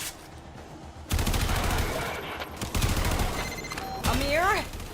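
Gunfire in the Warframe video game, bursts of rapid shots over busy game sound effects with a rising electronic whine near the end.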